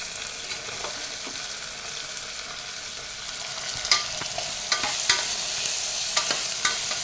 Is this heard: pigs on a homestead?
no